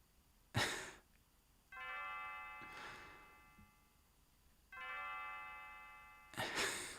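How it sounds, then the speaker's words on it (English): A bell rings in the Chrono Trigger video game, sounding twice as sustained chiming tones between soft breathy swells, fairly quiet overall. "Oh, the bell rang."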